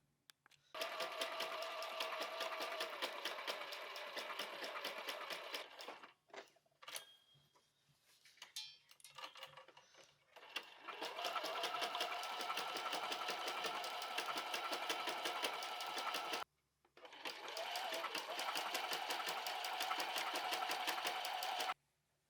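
A sewing machine stitches a large fabric pouch, its rapid needle chatter running in long steady bursts near the mic, stopping briefly in the middle and again near the end before resuming.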